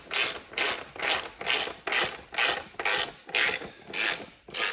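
A ratchet wrench tightens a 19 mm axle nut on the rear brake of a Kawasaki KX dirt bike: nine evenly spaced, close clicking strokes with brief pauses between them.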